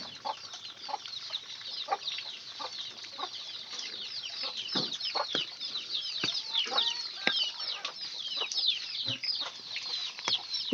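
A mother hen clucks near her chicks while light drizzle falls, short scattered clucks over a constant high chirping background, moderately near and without speech.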